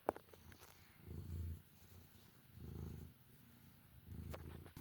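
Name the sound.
cat purring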